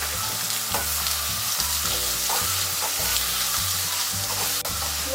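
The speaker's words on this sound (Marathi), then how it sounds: "तेजपत्ता आणि हे तीन मी कापलेले कांदे घेतले आपल्याला तर तेलामध्ये परतून घ्यायचे आहे" Bay leaf, two pieces of cinnamon and three sliced onions sauté in hot oil, giving a steady, close sizzle that runs without a break, with faint stirring and a low, even hum beneath.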